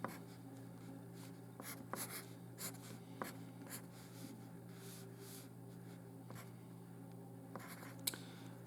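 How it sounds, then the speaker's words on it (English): A pen or pencil writes a math fraction on paper, making faint, steady scratching strokes with small taps, close and quiet with no talking. "I'm going to write a fraction"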